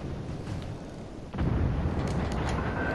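Heavy naval gunfire booms out in World of Warships: Legends as a warship fires on enemy ships, a loud deep blast swelling midway and rumbling on under sustained battle noise.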